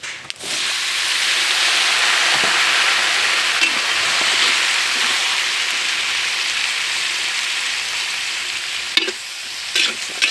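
Vegetables frying in a pan for pancit bato give a steady, loud hiss of sizzling with occasional soft clinks and scrapes of stirring.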